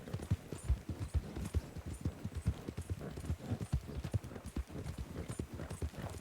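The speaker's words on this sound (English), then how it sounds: "once I max out this horse, I'm going to go ahead and max out Buell" Horse hooves clip-clopping in the Red Dead Redemption 2 video game, a steady rhythmic trot of sharp low thuds continuing throughout, close and clear with no talk.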